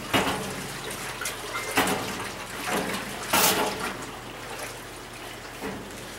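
Evapo-Rust liquid swished back and forth in a motor part's water jacket, a series of wet sloshing surges, four or five in all, over a soft background hiss.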